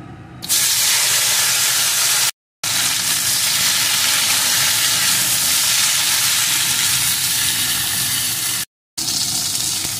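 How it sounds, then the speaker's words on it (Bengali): Okra pieces fry in hot oil in a pan after fish has been fried in it, giving a loud, dense, continuous sizzle and hiss that fills the whole clip, broken by two short silent gaps. "এখন এই তেলের ভিতরে ভেন্ডিগুলোকে দিয়ে একটু ভেজে নেব।"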